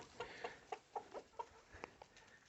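Adult laying hens cluck in a short series of soft, evenly spaced calls close by, with a louder squawk near the end and a quiet farmyard background.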